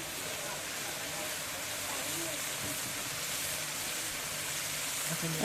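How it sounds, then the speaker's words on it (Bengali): Boiled silk cotton flowers being fried with spice paste in a pan give off a steady, dense sizzling hiss that holds evenly throughout, close and continuous. "আগে থেকে সিদ্ধ করে রাখা শিমুল ফুল এই মশলার সাথে দিয়ে কষাবো"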